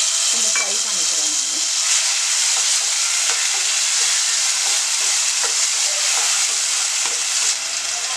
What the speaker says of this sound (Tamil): இப்போ வந்து அதுலேயே வந்து நம்ம பைனாப்பிளையும் போட்டு நம்ம ஃப்ரை பண்ணிக்கிறோம்.